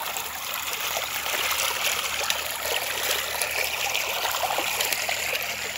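Floodwater runs across flooded farm fields in the Terai after heavy monsoon rain, a loud, continuous rushing and trickling flow with no voices.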